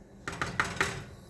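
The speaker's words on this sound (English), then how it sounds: "we're gonna put the lid back on" A metal lid is set back onto a pot of simmering homemade vegetable soup, giving four quick, close clanks and rattles in a row.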